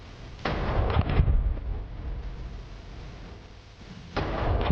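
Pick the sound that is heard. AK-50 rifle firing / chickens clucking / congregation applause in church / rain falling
AK-50 rifle firing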